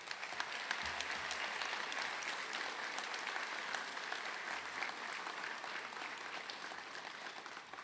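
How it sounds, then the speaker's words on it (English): New students and staff at a university fall orientation ceremony in Hilo, Hawai'i, give steady, sustained applause, a dense wash of clapping from a large crowd heard at a moderate distance. "Can we take a look around and give each and every one of us a round of applause for making it here today?"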